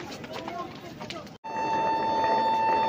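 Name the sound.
Kamrup Express train stopped at Nabadwip station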